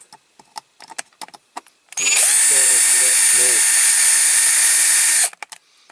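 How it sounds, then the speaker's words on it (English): A small power drill bores out a long rivet on a Dinky Supertoys Foden flatbed chain lorry: a loud, high, steady whine for about three seconds, with light tapping and handling sounds before and after. "I want to first of all drill this rivet out."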